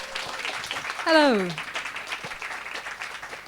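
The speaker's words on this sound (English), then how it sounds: "please, kind of a huge round of applause for our two presenters this afternoon, Helen and Nicola" An audience applauds two presenters at an afternoon conference session; the clapping is steady and moderately loud, and a voice speaks a short greeting over it.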